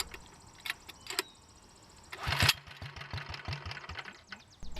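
A Wheel Horse Model 401 garden tractor engine is pull-started with the throttle at idle, giving a few rattling pulls and brief sputtering bursts close by, then a quick, uneven putter.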